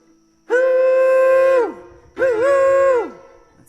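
A performer at a folk festival mimics a train whistle with their voice: two long, loud, steady blasts, the second bending slightly in pitch, with a short gap between them.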